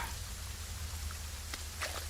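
Steady rainfall hisses throughout, with a few louder drops pattering nearby, no voices heard; a scene from an action film.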